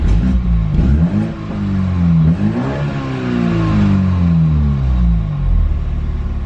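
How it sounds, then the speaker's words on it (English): A four-cylinder Toyota Supra engine is revved repeatedly nearby, its loud note climbing and dropping in several swooping pulls over a constant rumbling idle. "that's just not what a Supra's supposed to sound like"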